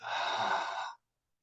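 A single long exhale out through the mouth during a guided meditation breathing exercise, close and breathy, lasting about a second before silence.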